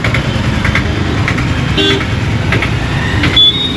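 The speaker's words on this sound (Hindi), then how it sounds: "ट्रैफिक है, ट्रैफिक का थोड़ा सा दिखाता हूँ आपको कैसा चलता है" Dense road traffic rumbles around a rider on a BGauss RUV 350 electric scooter, with repeated short horn toots from nearby vehicles over a steady loud engine and road drone, no talking.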